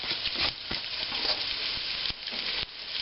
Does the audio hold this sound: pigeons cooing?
no